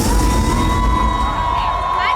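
A live concert crowd in LA roars and cheers continuously at close range, a dense sustained wash of voices and whoops with no break.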